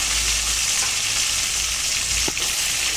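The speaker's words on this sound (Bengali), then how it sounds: "প্রথমে আমি টমেটো দিয়ে দিচ্ছি টমেটোটাকে একটুখানি ভাজা ভাজা করে নিচ্ছি" Tomatoes fry in oil for a tangra fish curry with a dense, loud sizzle, close and continuous, with a brief clink of a utensil near the end.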